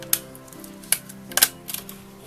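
A stapler fastens wool onto a Christmas banner: a handful of sharp, crisp snaps spaced irregularly over a quiet background, close up.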